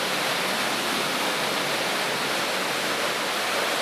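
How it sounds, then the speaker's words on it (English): Heavy water rushing and pouring inside an old mine, a steady, loud broadband roar with no pauses and no voices over it. "So it's got lots of water flowing."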